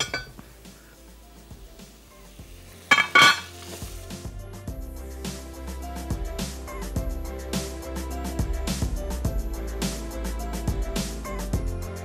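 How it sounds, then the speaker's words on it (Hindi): A cooked chicken dish is served out with metal utensils, bringing close clinks and scrapes against dishes, with a sharp burst of clatter early on, then steady soft clatter under light kitchen noise. "ये रेडी है, मैं इसको डिश आउट कर रहा हूँ"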